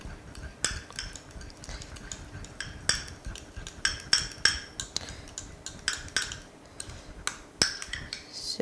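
A spoon stirs a thick tomato sauce for Nigerian spaghetti jollof in a pot, producing steady, irregular metallic taps and clinks against the pot's side over a low background, close and moderately quiet with no talking.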